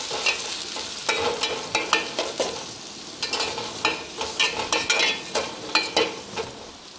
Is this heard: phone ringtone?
no